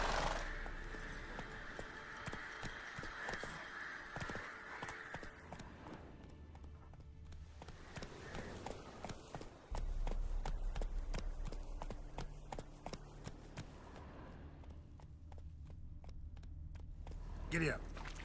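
Horse hooves clip-clop steadily in a brisk rhythm while riding through The Witcher 3: Wild Hunt, the beat running throughout at moderate level with occasional game sounds and someone talking over it.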